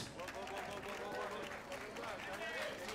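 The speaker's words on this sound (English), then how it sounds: "A round of applause for both fighters." Crowd applause and cheering for two MMA fighters at a shipboard fight event, steady and dense throughout with a hubbub of voices mixed in.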